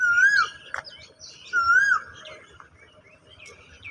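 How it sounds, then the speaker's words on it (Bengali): An Asian koel calls twice in clear, rising whistled phrases a second apart, fairly close over faint background noise, with a brief sharp knock between calls. "কারা কারা কোকিলের ডাক শুনতে পারছেন"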